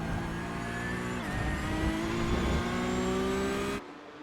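A Porsche Cup race car in an iRacing simulation at Road America drones at steady high revs, its engine note climbing smoothly with a brief dip near the start, then cutting off abruptly near the end.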